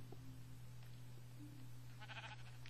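Sheep bleat in the Minecraft video game, a couple of short bleats, the clearest one near the end, heard quietly over a steady low hum.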